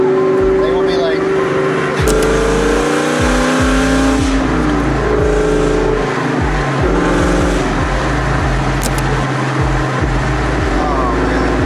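A 2003 Ford Mustang Cobra with a 530 hp engine drives hard, its loud, close exhaust revving and roaring through gear changes with a steady heavy rumble throughout, while people talk inside the car.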